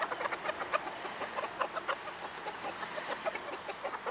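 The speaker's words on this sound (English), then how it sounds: "All right, those are the chickens." Several chickens cluck in a dense, overlapping chorus as they hurry across a farmyard toward scattered feed, the calls steady and fairly close with no talk over them.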